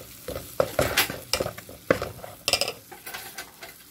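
Flour stirred into melted butter in a pan, browning for a vegetable moussaka with cheese and cream: a spoon scrapes and clinks against the pan over a steady sizzle, with several sharp utensil knocks.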